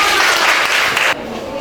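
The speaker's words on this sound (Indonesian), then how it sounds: "Oke, tepuk tangan bersama." A classroom group claps together in a short, loud burst of applause that stops abruptly partway through, followed by quieter room sound.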